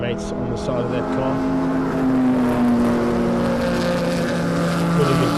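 During the Zwartkops 500 race, a race car's engine holds a loud, steady tonal drone that shifts slightly in pitch as it runs past, with a commentator talking over it.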